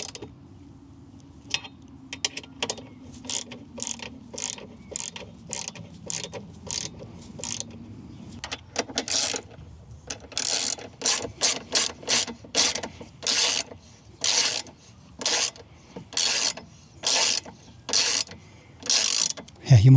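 A mini ratchet wrench clicks in quick bursts of ratcheting strokes, close and crisp, tightening screws on a Lambretta G350 scooter with short pauses between sets.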